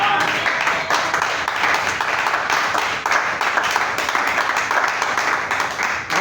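A church congregation applauds the Lord with sustained, dense clapping, loud and steady, while voices call out over it.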